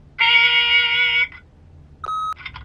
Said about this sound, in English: leave a message at the beep